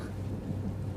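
Heavy rain pours down in a continuous low rumbling wash, with thunder-like booms rolling underneath, steady and dense for the full second with no voices.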